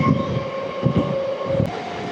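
A MEMU passenger train runs along railway track through West Godavari, giving a steady rumble of wheels and carriage with rhythmic low thumps of the wheels crossing rail joints and a faint tonal hum, heard from on board.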